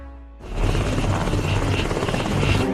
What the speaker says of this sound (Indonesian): sebuah helikopter musuh pun tiba-tiba datang